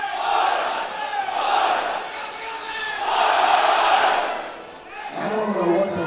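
A large arena crowd at a Sydney comedy show chants in loud, swelling unison waves, roaring repeatedly with brief dips between surges, dense and close.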